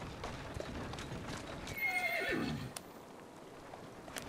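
Horse in the Victorian London of Assassin's Creed Syndicate, hooves clip-clopping steadily under a loud, falling whinny in the middle, with street ambience behind and no speech.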